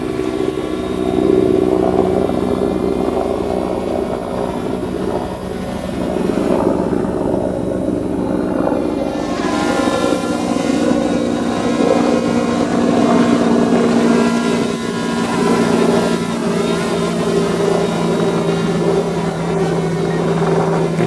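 A DJI Mavic Air drone flies outdoors, its steady high-pitched propeller whine loud and close, shifting in pitch as it moves and turns, with the tone rising and brightening partway through.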